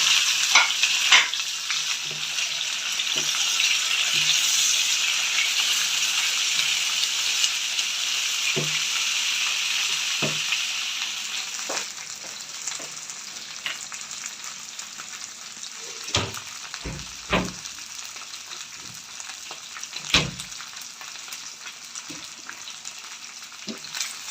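Half a kilo of okra fries in hot oil in a pan, a loud bright sizzle that gradually settles, broken by intermittent clacks and scrapes of a spatula stirring against the pan.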